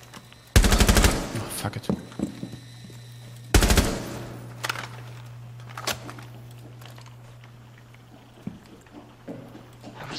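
Rainbow Six Siege gameplay: two loud, rapid bursts of automatic gunfire ring out close, followed by sparser, quieter single shots and clatter, with a brief spoken outburst from a player.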